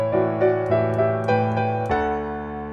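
A piano plays a melody harmonized in sixths, the right-hand closing phrase of a song, with about eight evenly spaced chords ringing and overlapping before the last one sustains.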